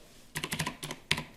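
Short bursts of key presses on a computer keyboard as a simple password is entered while installing Ubuntu in VirtualBox, two quick clusters of close, crisp taps separated by a brief pause, with no talk.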